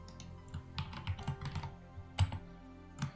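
Computer keyboard typing while wiring an Arduino Pro Micro: irregular clusters of soft clicks and key presses, close but quiet, with a few louder thumps and no talk.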